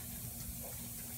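Water from a backyard sprinkler sprays in a steady rushing hiss while a dog plays nearby, continuous and fairly close with no voices over it.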